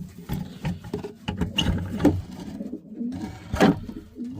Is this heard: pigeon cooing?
yes